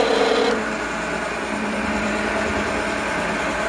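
A $900 Chinese metal lathe turns down mandrels, giving a steady close whine with a constant mechanical hum and a brief higher tonal squeal at the start, with no voices.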